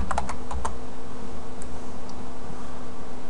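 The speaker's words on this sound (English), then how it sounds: "Type in admin and the password I chose." Close-up keystrokes on a computer keyboard, a quick cluster of clicks followed by a few scattered taps over a faint steady hum.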